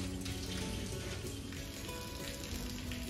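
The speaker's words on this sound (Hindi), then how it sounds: "कहाँ गिर रहा है पानी?" Water overflowing from a community hall tank pours off a roof in a steady, rain-like patter and splash, continuous and fairly faint, with no talking.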